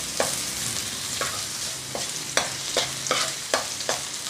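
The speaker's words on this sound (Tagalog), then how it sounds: "Sibuyas, luya. Para lumabas yung kanyang aroma." Onion and ginger sauté in a pan, a soft continuous sizzle punctuated by sharp clinks and scrapes of a spatula stirring at an uneven pace, close by and without speech.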